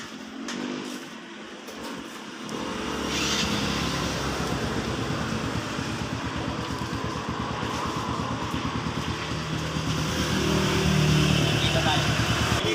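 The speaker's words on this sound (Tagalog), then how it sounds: "Okay, paandarin mo na yung motor mo." A motorcycle engine starts and settles into a steady running idle close by, with people talking over it at times and a brief quieter stretch before it fires up.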